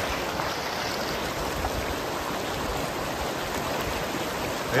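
Floodwater flows across a road in a constant, loud, broadband rush with no breaks, like a steady stream or small waterfall close by.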